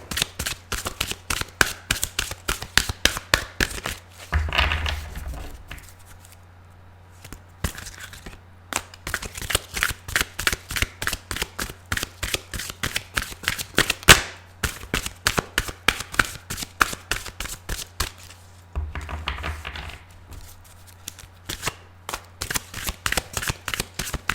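Tarot cards are shuffled by hand in long runs of crisp riffling flicks and slaps, with brief pauses between bursts, close and clear with no speech.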